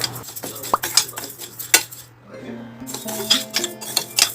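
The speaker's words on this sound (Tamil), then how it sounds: "பாசிப்பருப்பு ஒரு கப்பு பச்சரிசி ஒரு கப்பு எடுத்துருக்கோம் ரெண்டையும் வந்து ஒன்றா வறுத்து எடுத்துக்கிறலாம்" Moong dal and raw rice dry-roasting in a pan, with a metal spoon clinking and scraping against the pan in repeated bursts and a faint background hum between strokes.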